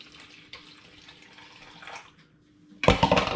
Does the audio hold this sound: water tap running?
yes